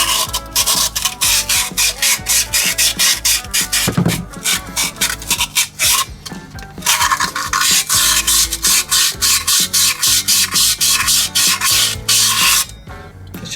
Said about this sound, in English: I'm going to do this wet because a wet sand does come out smoother.